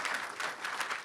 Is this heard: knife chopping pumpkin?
no